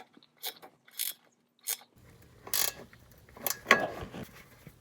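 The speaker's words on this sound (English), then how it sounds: "I'm just going to tighten them all up with a wrench" A ratchet wrench tightening upper control arm bolts on a 2005 Acura TL, quick bursts of close clicking ratchet strokes separated by short pauses, fairly quiet.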